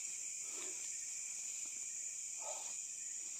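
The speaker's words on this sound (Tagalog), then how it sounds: "Mga insekto na naman yun dito." Insects chirp at night in a steady, high, continuous drone, with faint rustling and a soft low sound now and then, no talk.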